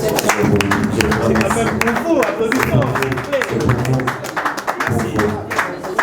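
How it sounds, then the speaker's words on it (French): Clapping from an audience at a film launch event, applauding the press, loud and dense across the stretch, with a voice talking over it at times. "Est-ce qu'on peut applaudir pour la presse, s'il vous plaît?"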